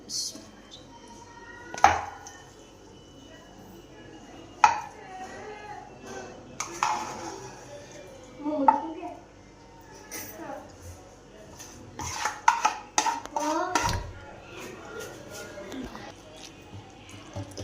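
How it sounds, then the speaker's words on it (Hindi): Sweet vermicelli (sewaiyan) being mixed in a pot, with intermittent clanks of a spoon against the metal and soft scraping, separated by quiet gaps. "इसे हम मिक्स कर लेंगे अच्छे से।"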